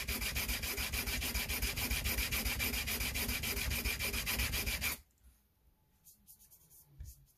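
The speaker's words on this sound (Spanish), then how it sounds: "Y ahora lo voy a continuar lijando hasta que quede todo como esta parte." Steady, continuous abrasive rubbing of sanding on a hard pool cue tip, loud and close for several seconds, then stopping abruptly into near silence with faint handling noises.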